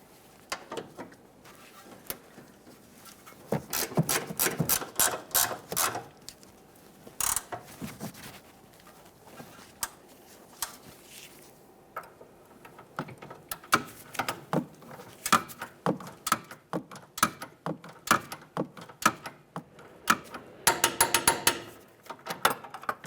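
Ratchet wrench tightening a bolt on the rear control arm of a 2007-2013 Acura MDX, rapid metallic clicking in repeated bursts with quiet gaps between them, close and alone.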